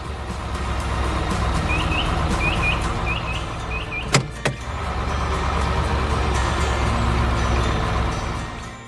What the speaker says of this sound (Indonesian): Traktor itu mulai menyingkirkan tanah di sekitar ban agar truk bisa bergerak lagi.